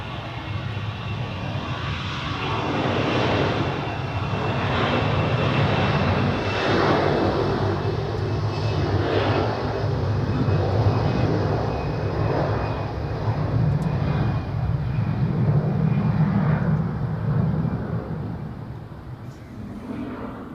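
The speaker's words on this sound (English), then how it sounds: "the Manchester flight of EasyJet just got takeoff clearance" EasyJet airliner bound for Manchester taking off at Zurich Airport, its engines roaring loud and steady at a distance and then slowly fading.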